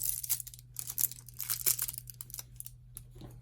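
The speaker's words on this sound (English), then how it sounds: "I'm going to squeeze them and pinch them so that they get wrinkly." Close, crackly crinkling of thin Angelina fusible film squeezed and pinched in short irregular bursts, quiet and alone.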